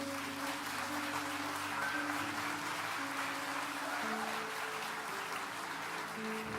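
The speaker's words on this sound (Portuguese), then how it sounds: "pode aplaudir, irmãos" A church congregation claps together in sustained, even applause that fills the room at moderate loudness, with faint tonal sound underneath.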